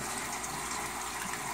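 Water pouring steadily through the overflow skimmer of a 180-gallon aquarium fitted with a DIY wet/dry filter, a continuous close splashing wash with a brief sharper knock near the end.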